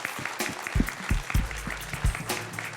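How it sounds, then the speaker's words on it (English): Audience applause at a talk-series event, a short burst of scattered clapping close by with uneven, sparse hand claps and no voices. "big applause for him"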